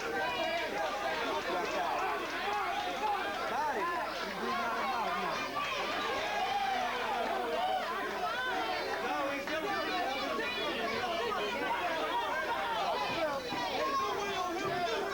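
Crowd at a professional boxing bout, a constant dense murmur of chatter and voices that stays level for the whole stretch without distinct cheers or peaks.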